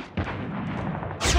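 Gunfire in the mobile shooter COD Mobile: a short burst of loud, close shots sustained for about a second, ending in a brighter sharp blast.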